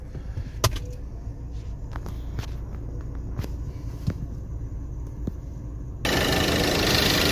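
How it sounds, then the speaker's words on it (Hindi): A car's air-conditioning compressor clutches in and runs while the engine idles, a steady low mechanical hum and scattered clicks giving way after about six seconds to a sudden, louder broadband rush that holds to the end. "इसमें एक ना आवाज़ आपको आ रही होगी, उससे हमें पता चल रहा है कि कंप्रेसर ऑन हो गया।"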